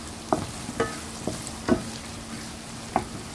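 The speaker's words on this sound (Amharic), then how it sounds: "በመጥበሻ ነው እየሰራው ያለሁት፣ ጎርጎድ ባለ መጥበሻ።" Chopped Ethiopian gomen greens frying with garlic and ginger in a wide shallow pan, a soft steady sizzle broken by several sharp scraping stirs of the spoon, quiet and close.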